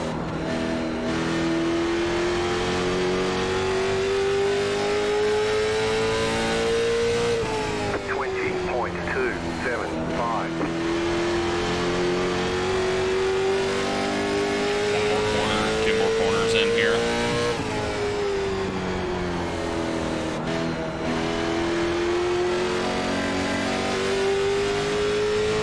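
A late model stock car engine in a racing video game, laps at Stafford: a loud, sustained engine drone that rises and falls in pitch as the car accelerates and lifts through the corners, steady for the whole stretch.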